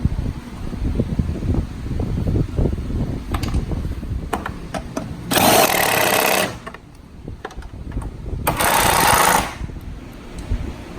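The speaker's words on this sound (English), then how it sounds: "then we'll tighten them down with our impact" Air impact wrench tightening nuts on a Fiat 500 Abarth turbo downpipe, two loud, broadband rattling bursts of about a second each, separated by a short pause, over quieter workshop clatter.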